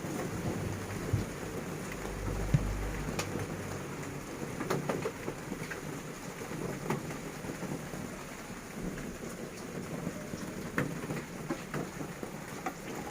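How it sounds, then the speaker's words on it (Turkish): Steady rain falls throughout, a dense even patter with occasional louder drops and a low rumble early on. "Gerçi bir taraftan da yağmur dinmesin istiyorum. güzel güzel güzel yağıyor"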